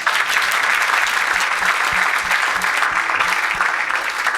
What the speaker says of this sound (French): Acclamons le Seigneur encore.